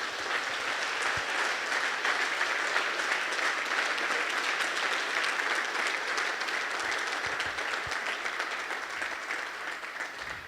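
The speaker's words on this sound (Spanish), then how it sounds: "Dele un aplauso al Rey, por favor." A congregation at a men's church gathering applauding steadily for about ten seconds, a dense, even wash of clapping with no voices over it.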